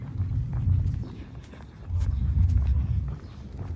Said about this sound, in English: where you can actually hear the subway trains going by